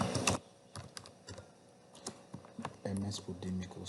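Clicks of a computer keyboard as a document name is typed, in irregular short bursts with brief pauses, close up and fairly quiet, under light background noise.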